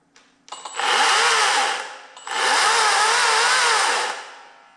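An Atlas 40-volt battery chainsaw with a 16-inch bar revs up in two loud, steady bursts, a brief dip between them, running close by with no talk.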